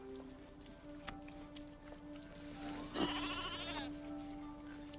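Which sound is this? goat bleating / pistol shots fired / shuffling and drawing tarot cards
goat bleating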